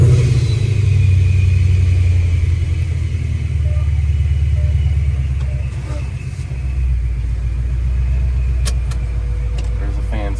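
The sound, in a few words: Mustang GT engine with exhaust open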